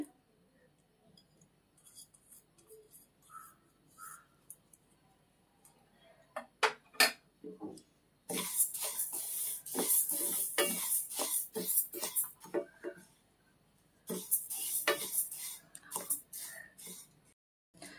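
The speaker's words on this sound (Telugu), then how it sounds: "ఈ ఫ్రైయింగ్ పాన్ కొంచెం హీట్ అయిన తర్వాత ఫస్ట్ ఫ్లాక్స్ సీడ్స్ ఫ్రై చేద్దాం." Flax seeds dry-frying in a heated frying pan, with irregular close clinks, ticks and scraping rattles of seeds and utensil against the pan, in bursts that grow busier, with a voice talking faintly at times.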